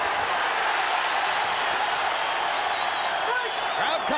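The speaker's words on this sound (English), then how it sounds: "crowd comes alive as Barrera, for the moment, gives as good as he takes." A large crowd roars and cheers continuously in a big arena during a boxing match between Manny Pacquiao and Marco Antonio Barrera, while a commentator talks over the noise.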